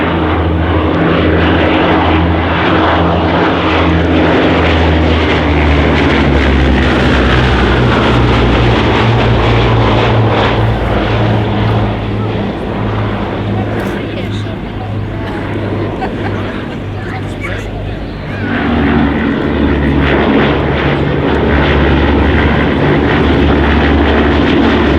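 A Blenheim twin-engine wartime bomber flies past at an air show, its loud throbbing propeller drone holding for the whole stretch, dipping briefly then swelling again as it passes close overhead.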